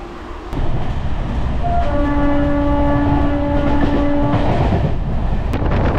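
A Santragachi–Jhargram MEMU train, number 68001, racing at high speed, heard from inside a coach: a loud, constant rolling rumble with a long sustained horn sounding partway through.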